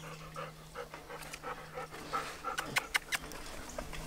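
A wolf dog pants rapidly in short breathy bursts close by at a wolf dog sanctuary, with a few faint whimpers and soft sounds mixed in.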